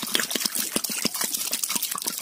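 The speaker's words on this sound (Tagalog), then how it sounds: "so lagyan natin ng tubig" Water poured into a cooking pot holding chopped papaya, a steady close splashing and dribbling with quick pulsing drops, with no talking.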